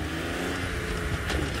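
A safari vehicle engine revs close by in one steady, mid-pitched drone that swells slightly toward the end.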